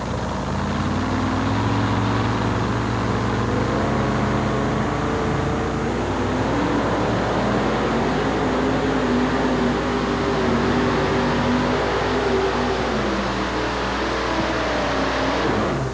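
A Chevrolet pickup's engine roars under load during a 1987 truck pull in Louisville, Kentucky, its pitch climbing and wavering as it drags the sled in a sustained, loud run.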